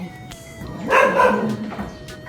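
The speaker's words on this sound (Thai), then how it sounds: "ก็จะเป็นเสียงน้องหมาที่เห่า เป็นบางเวลานะคะ" A dog barks nearby inside a home, giving a couple of short, sharp barks in quick succession against a quiet background.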